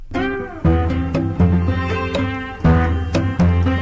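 A cello plays a pop melody, with a string of distinct, resonant notes at an even, moderate pace. No voices.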